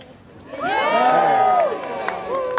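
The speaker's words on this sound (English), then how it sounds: "How about you give me a cheer if you think I can do it?" Street performer's audience cheering and shouting together, a loud swell of mixed voices that rises, holds for about a second, then fades, with scattered whoops and claps after.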